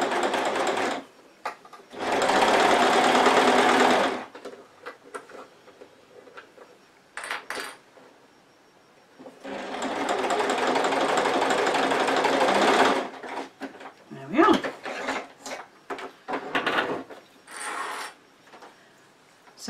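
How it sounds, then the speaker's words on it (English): Sewing machine top stitching pleats on a wristlet clutch bag, running in two long loud steady bursts with short stops, followed by clicks and handling noises between stitches, close and clear. "So now those have been top stitched just to hold those pleats in place."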